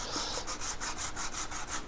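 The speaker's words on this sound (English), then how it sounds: "We go through here and sand everything down, you know, to get it smooth." Rhythmic back-and-forth scratching of sandpaper rubbing on a wooden 1:76 scale model ship hull, steady and close, about five strokes per second.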